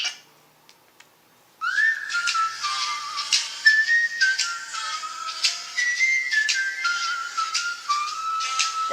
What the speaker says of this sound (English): That's actually not me whistling.